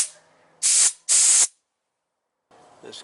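Strong cleaner sprayed onto a carburetor from a Kohler engine on a stump grinder: two loud, close, hissing bursts of about half a second each, followed by silence and then fainter rustling.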